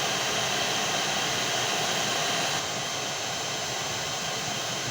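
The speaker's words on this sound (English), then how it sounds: "if we put our heat gun and just very very gently apply some very very very hot air to that" A heat gun blows hot air onto a thermostat on a workshop bench, a loud, steady rushing hiss and whir that drops slightly in level about halfway through, with no talking.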